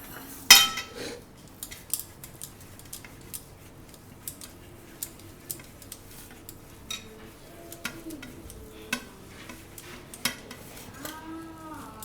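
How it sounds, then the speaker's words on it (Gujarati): A spoon stirs and scrapes gulkand barfi mixture in a metal pan, giving sparse clinks and knocks at irregular intervals over a quiet kitchen background. "આપણે વચ્ચે વચ્ચે હલાવતા રહે હું"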